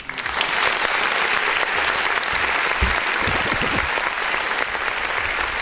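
Canned applause from a clap button on an independent artist music review show, a dense steady wash of many hands clapping that runs loud and unbroken for several seconds with no voices over it.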